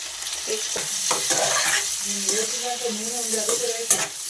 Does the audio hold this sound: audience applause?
no